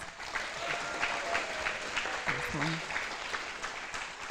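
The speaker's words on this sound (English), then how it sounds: "Let's give this team another round of applause." Steady applause from an audience at a scholarship ceremony, a sustained wash of clapping at moderate level with a brief voice or tone breaking through midway.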